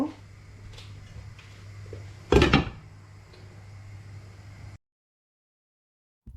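A lid goes onto a pot of boiling carrots for gajar halwa, landing as one loud, close metallic clank amid quiet kitchen hum, followed by silence.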